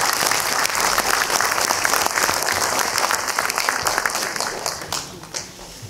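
An audience applauds steadily at a folk ensemble's 30th-anniversary concert in Brînzeni, the dense clapping tapering off into scattered claps at the end.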